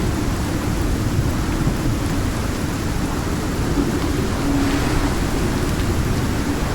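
Heavy rain pours in a steady, dense wash during a severe thunderstorm in the survival video game Icarus, with a low rumbling bed underneath and no talking.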